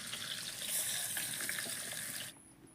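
Fish head frying in hot mustard oil, a steady loud bright sizzle with crackling spits that cuts off sharply near the end, leaving only a faint hiss.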